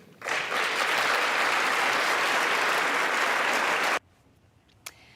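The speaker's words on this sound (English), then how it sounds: "Applause there from both sides of the aisle." Sustained applause from both sides of a legislative chamber, loud and steady for about four seconds before cutting off into quiet room tone with one faint knock.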